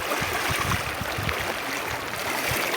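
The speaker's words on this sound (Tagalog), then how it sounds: "Kuya, ang lakas ng agos." A strong river current rushes and gurgles close by, a dense continuous wash of water with irregular low splashes and churning.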